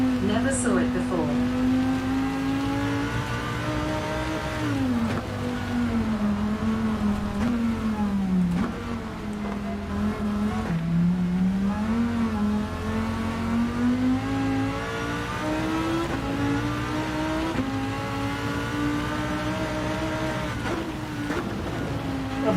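A racing car engine in the Gran Turismo 7 video game, set on the Nürburgring, drones steadily and rises and falls in pitch through gear changes, with someone talking over it throughout.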